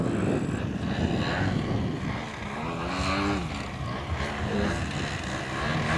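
A model aircraft in flight at an air show, its engine drone rising and falling in pitch as it passes, steady and moderately loud over crowd ambience with no talk.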